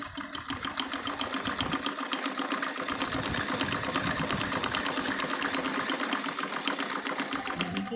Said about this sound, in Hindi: वापस डबल सिलाई हम उस बाजू के ऊपर अपनी लगाएंगे